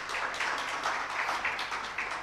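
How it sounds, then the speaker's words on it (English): An audience at a leadership program commissioning ceremony claps to welcome pillar directors, giving a steady wash of applause from many hands, moderately distant and even for the whole stretch, with no voices standing out. "You're already being welcome with a clap"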